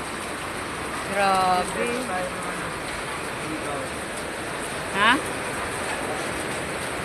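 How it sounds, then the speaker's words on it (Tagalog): Very heavy, misty downpour during a thunderstorm makes a steady, even hiss, with brief voices talking over it near the start and again later. "Ang lakas ng ulan."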